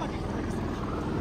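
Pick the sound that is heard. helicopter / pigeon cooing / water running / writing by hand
helicopter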